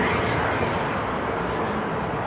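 Airliner at Amsterdam Airport taxiing toward runway 24 after a storm, a steady broad jet engine roar, loud and continuous throughout.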